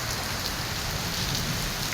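Heavy rain pours down in Lahore, a dense and steady hiss of drops hitting surfaces with no pauses, close and loud, and no voices or thunder.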